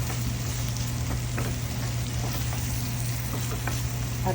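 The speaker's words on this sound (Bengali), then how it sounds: "এখন আমি চিংড়ি মাছ দিয়ে দেবো।" Bangladeshi prawns frying in spice paste in a pan, giving a steady close sizzle with a low hum underneath and occasional soft pops and stirring ticks, no one talking.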